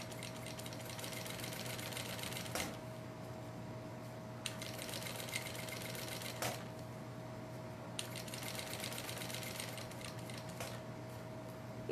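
Sewing machine topstitching a pouch lining with a longer stitch, a close steady mechanical whir running in bursts with brief pauses between, no talking.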